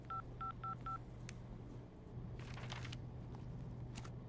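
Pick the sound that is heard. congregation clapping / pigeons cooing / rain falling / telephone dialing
telephone dialing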